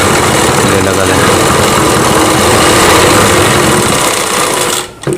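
A sewing machine stitches a Rajputi kanchali (Rajputi poshak blouse), running a loud, steady, close motor whir for about five seconds before stopping abruptly.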